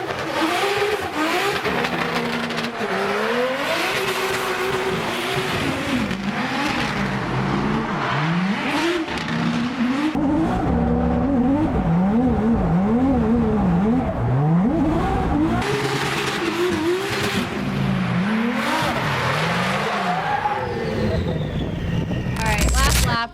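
A BMW E46 race car on track, its engine revving up and down in rapid sweeping pitch swings as it loses grip and spins out, loud and close throughout, with tire and wind noise.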